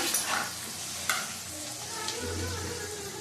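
A whole tomato drops into a frying pan for a potol curry, bringing a steady hot-oil sizzle with a few sharp crackles and light scraping, moderately close, no voices.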